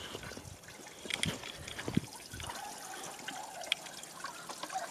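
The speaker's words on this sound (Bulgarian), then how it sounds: "че има някаква чешмичка." Water trickles steadily from a small public drinking fountain dated 1965 in the Stroyno and Boyanovo area, a soft continuous flow with faint outdoor background and a few brief knocks.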